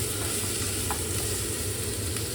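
Onions fry in hot oil in a pan for an Iraqi white bean and lamb stew, giving an even, loud, continuous sizzle close up with no pauses and only faint clicks of stirring.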